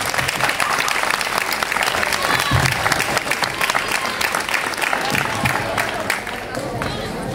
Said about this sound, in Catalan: Un fort aplaudiment per ells i després vindreu a fer el relleu.